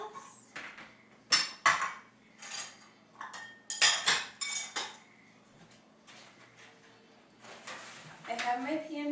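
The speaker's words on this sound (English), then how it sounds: "I'm just going to move these bowls for us." Bowls being moved on a kitchen counter, a series of close clanks, knocks and ceramic clinks in uneven bursts, with a person talking between and over the handling.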